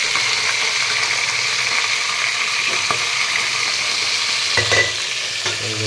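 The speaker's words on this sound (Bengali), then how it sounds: "ফার্স্টে ডাঁটাগুলো ভাজবো।" Vegetable stalks frying in a pan, a loud steady sizzle close up with intermittent stirring clinks and scrapes toward the end.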